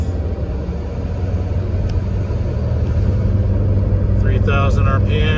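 A Mitsubishi Lancer Evo MR with its SST transmission cruises in 5th gear near 3,000 RPM, producing a loud, steady low engine and road rumble with someone talking over it.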